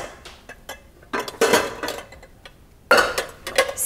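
Cristel cookware pots and pans are handled and stacked, giving a few metallic clinks and clanks in short bursts between quieter gaps, close and fairly soft.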